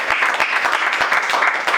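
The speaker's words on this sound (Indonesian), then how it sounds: "Berikan sorak-sorai bagi Tuhan." Church congregation clapping and cheering at an Easter service, a dense, fast patter of many hands, steady and loud throughout.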